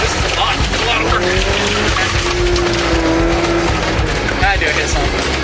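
Toyota AW11 MR2 rallycross car being driven hard, engine droning loud and steady with a brief rising tire squeal, while the driver talks throughout.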